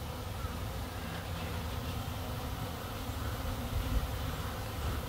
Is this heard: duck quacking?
no